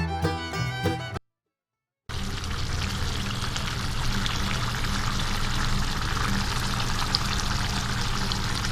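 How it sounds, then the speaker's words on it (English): Stock water is poured into a masala for goat liver gravy, a steady splashing pour that runs continuously after a brief silence, preceded by a short burst of music. "Now add the stock water into the masala."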